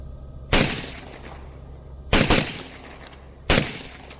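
A Beretta 1301 tactical semi-automatic shotgun firing outdoors, three loud, sharp blasts spaced apart, the second followed by a quick echoing crack, with no talk between shots.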